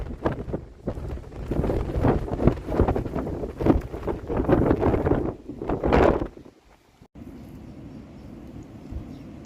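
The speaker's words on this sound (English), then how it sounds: "It's windy!" Strong, cold wind buffets the microphone in heavy, roaring gusts for several seconds, then cuts to a quieter, steady rush, on the Camino de Santiago at O Cebreiro.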